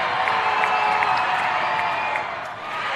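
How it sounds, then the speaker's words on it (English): High school boys basketball gym crowd at New Haven at Columbia City, roaring, whistling and cheering loudly during a free throw, a dense sustained wall of noise that dips briefly near the end. "So crowd gets loud to try and distract Izell."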